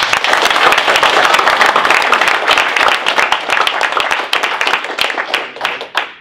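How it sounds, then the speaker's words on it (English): Loud, close applause from an audience for Ray McGovern, dense rapid clapping that stays strong before thinning out and tapering near the end. "Nice round of applause for Ray McGovern."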